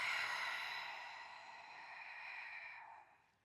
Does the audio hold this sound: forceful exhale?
yes